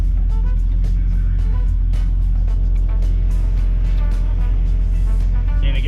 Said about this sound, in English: it's a single compressor, small compressor. It's just really working hard to get the job done